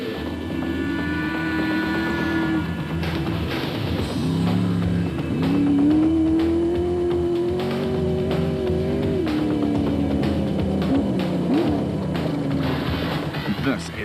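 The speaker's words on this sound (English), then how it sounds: "This is one big engine and it always wants a bit more punishment." Big engine of a yellow Atlas Copco special-class rally vehicle at the Rustenburg 200 in Lichtenburg, droning loudly and steadily with rising and falling revs, continuous throughout the clip.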